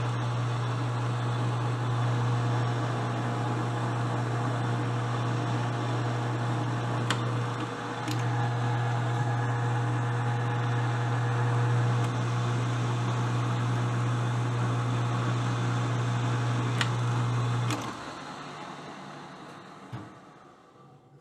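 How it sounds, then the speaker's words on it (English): A metal lathe cuts threads on a Tiger Cub ignition mount in a machine shop, giving a steady loud motor hum with a low drone that is briefly interrupted, then winds down near the end. "Let's go to the lathe and do some machining."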